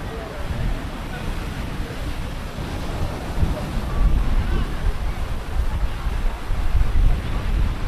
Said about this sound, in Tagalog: Enjoy pa rin tayo kahit na malakas yung hangin at medyo maulan.